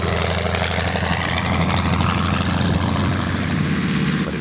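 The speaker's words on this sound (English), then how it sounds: "We've also captured the authentic sounds of classic World War II planes." Classic World War II propeller airplane engine running, a loud, steady, throbbing piston drone with a rough pulsing beat, close up and constant throughout, no talking.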